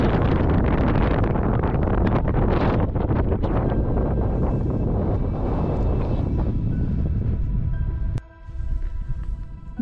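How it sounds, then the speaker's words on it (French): Strong wind roars across a mountain ridge in the Pyrenees, buffeting the microphone in loud, continuous gusts that ease briefly near the end before rising again; no one speaks. "Il y a un vent énorme."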